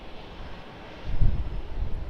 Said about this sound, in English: There's the Rex Boeing 737-800.